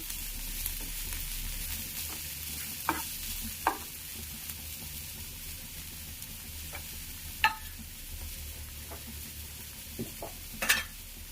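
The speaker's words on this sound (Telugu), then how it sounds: "ఆనియన్స్ని ఇలా ఫ్రై చేసుకోవాలి." Thinly sliced onions fry in a pan with a steady low sizzle, with a few sharp spatula scrapes and clinks scattered through and a louder scrape near the end, no talking.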